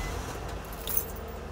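A 2004 Nissan Maxima 3.5 SL engine idles steadily just after starting following an oil change, a continuous low rumble close by with a faint metallic jingle over it and no talk.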